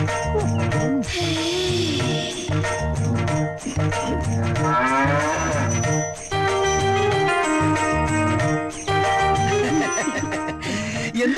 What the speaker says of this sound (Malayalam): പശുവിനെന്ത് പറ്റി?